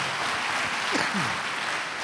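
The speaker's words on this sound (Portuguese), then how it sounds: "Então dê uma salva de palmas antes de você se assentar" A church congregation gives a round of applause during an evening service, a dense, even wash of many clapping hands with a brief voice rising in the middle.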